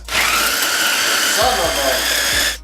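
A tiny food processor chops ingredients for salmon burgers in one loud, steady motor whir of about two seconds, starting abruptly and cutting off at the end, with faint thuds of food hitting the blade.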